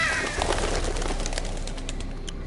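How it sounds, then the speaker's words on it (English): A crow calls close by in a Game of Thrones video game set at night, several short caws ringing out over a steady ambient background. "Fucking crow scared the shit out of me just now."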